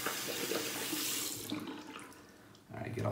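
Tap water runs steadily into a sink as hands and face are rinsed after a shave, a close, continuous splashing rush that thins briefly near the end before swelling again.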